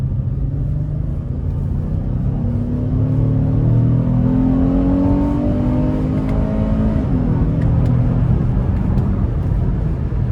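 A 2015 Acura MDX with all-wheel drive accelerates hard onto the interstate, a loud, steady engine rumble with rising tones as it pulls through gear shifts, heard from inside the cabin with road noise throughout.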